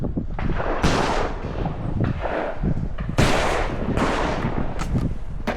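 Shotgun shots ring out during a bird shoot, several loud, sharp reports spaced through the clip, near and echoing, with outdoor ambience between them.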